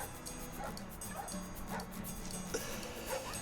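Dogs bark and yip in short bursts over a faint musical backing, quiet and somewhat distant, part of a recorded song.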